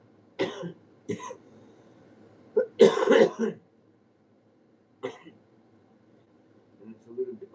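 Several short, dry coughs come in separate bursts with quiet pauses between, fairly close but soft overall, with a small throat-clearing sound among them.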